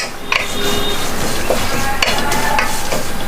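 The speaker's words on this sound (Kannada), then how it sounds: "ಇನ್ನು ಕರಿಬೇವಿನ ಸೊಪ್ಪು ಕರಿ ಲೀವ್ಸ್ ಅನ್ನ ಫ್ರೈ ಮಾಡ್ಬೇಕು" Curry leaves fry on a low flame in a home kitchen, giving a steady close sizzle with occasional stirring scrapes and light clinks of a utensil against the pan, and no voices.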